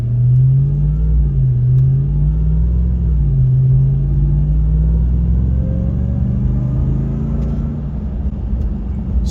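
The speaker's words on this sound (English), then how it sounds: "you just got that awesome supercharger whine and exhaust note" A supercharged Ram pickup truck accelerates gently down the road, giving a loud, steady low engine rumble with a faint whine and exhaust note that rises slowly with no voices over it.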